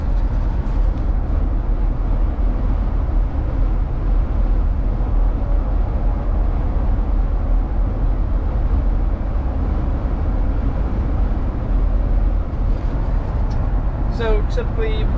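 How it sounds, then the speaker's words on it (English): Steady, even road roar inside a truck on 35-inch Nitto Ridge Grappler tires cruising the highway at 75 mph, a low continuous rumble with faint tire hum and no talking over it. "we're out on the highway running 75 with the 35-inch Ridge Grapplers"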